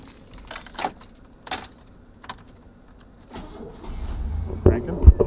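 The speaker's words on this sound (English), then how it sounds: "And I'm going to crank the truck up." A truck's engine cranks and fires up during air-conditioning service with the AC switched on, after a few light jingles like keys; the cranking grows into a loud, low rumble near the end.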